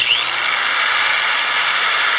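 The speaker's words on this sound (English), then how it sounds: "so I'm just going to use the drill here" A power drill runs continuously at high speed inside the spring shackle sleeve of a Silverado or Sierra truck, polishing out rust with a close, loud, steady whine.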